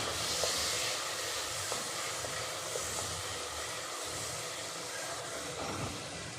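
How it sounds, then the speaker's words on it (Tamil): Chopped onions sizzle and sauté in a pan of hot oil for a Chettinad mutton curry, a steady, close, broadband hiss with faint clinks now and then. "வெங்காயத்தை நல்லா வதக்கி விட்டுடலாம்."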